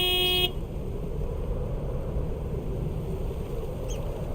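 A big white mail truck in the Mailman Simulator video game gives one short honk of its horn, then a steady low engine rumble carries on alone.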